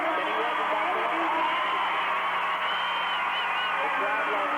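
Steady, dense crowd cheering and applause at the 1993 McDonald's American Cup gymnastics meet for gymnast Vitaly Scherbo, a continuous roar filling the arena without letup, with a commentator's voice faintly mixed in.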